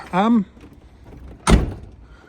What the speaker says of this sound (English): I don't think that door is shutting quite on the second latch